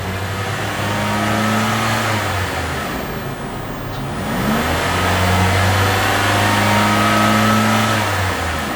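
A 2017 Toyota Altis 1.6 G engine hums close by, revving up and easing down twice with a smooth mid-pitched drone, no voices over it.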